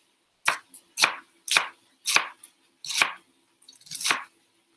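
Knife slicing vegetables thinly for pancit bihon, crisp chops landing on a cutting board in a steady series of about eight cuts, some grouped in quick pairs, close and clear with no talk.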